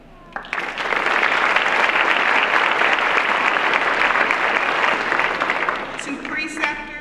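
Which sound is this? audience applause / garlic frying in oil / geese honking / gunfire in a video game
audience applause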